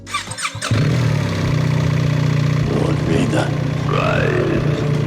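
A BMW GS 1300 motorcycle engine idles steadily with a low, even hum after a brief clatter at the start, close and continuous under a few faint higher squeaks.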